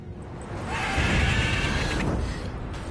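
A mare in the video game The Witcher 3 gives a loud, drawn-out neigh over a dense noisy game background, heard close and alone without speech.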